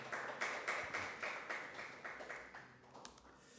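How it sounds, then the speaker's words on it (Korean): Rhythmic clapping from a church congregation during a Sunday worship service, steady repeated claps at a moderate pace fading toward the end, with no talking over it. "하나님께 온가의 박수 올려드리도록 하겠습니다"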